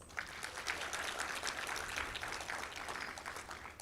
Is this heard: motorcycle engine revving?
no